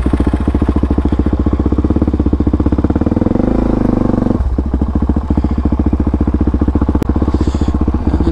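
Onboard engine drone from a dirt bike ride on a Brozz Recon 250 or DRZ400SM, loud and steady with rapid firing pulses, briefly dipping as the throttle eases near the middle before pulling again.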